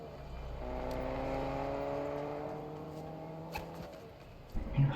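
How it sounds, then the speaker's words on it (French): A car engine in a video game drones steadily with smooth pitch changes, a continuous mid-level whir that fades slightly before a couple of brief knocks at the end. "Une voiture."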